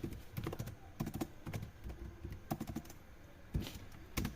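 Rapid bursts of keystrokes on a computer keyboard as a pip install command is entered at a command prompt, close and fairly quiet, coming in uneven clusters with short pauses and no talking.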